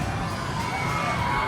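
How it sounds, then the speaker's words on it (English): Sixth graders cheer and shout together at a school pep rally, a steady, dense wash of young voices filling a large room with no break for its full length. "Come on, 6th grade, cheer them on!"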